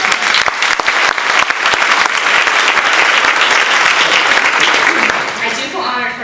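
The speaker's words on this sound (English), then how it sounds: "So let's give her a round of applause." Audience at a conference clapping for a speaker, sustained dense applause from a crowd that fills the room and tapers off toward the end.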